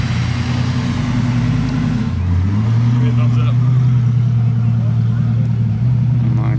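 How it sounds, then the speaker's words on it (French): A Ferrari 812 passes through Monaco streets, its engine heard as a steady low drone that shifts pitch partway through, moderately loud against surrounding street noise. "Et elle sonne bien la 812."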